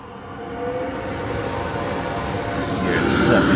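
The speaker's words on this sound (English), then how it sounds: "this is actually a vacuum dust collector that pulls debris from the air" A vacuum dust collector starts up and runs with a broad, steady whooshing roar that slowly builds in loudness.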